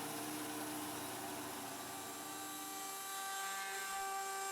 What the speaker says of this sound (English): Now it's time to head to the spindle sander,